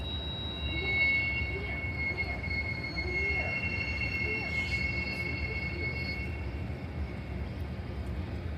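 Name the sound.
train passing in the distance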